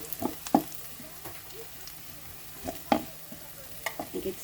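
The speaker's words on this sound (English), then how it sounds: "Fry it until it turns to golden brown." Quiet frying in a pan while fried-rice ingredients turn golden brown, with soft sizzle underneath and a few distinct knocks and scrapes from stirring; no talking.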